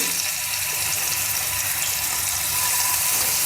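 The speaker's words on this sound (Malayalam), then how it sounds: "പ്രോൺസിനെ നമ്മൾ പൊരിക്കാൻ പോവാണ്." Tiger prawns fry in hot oil in a pan, giving a loud, steady, dense sizzle that fills the whole stretch without pause.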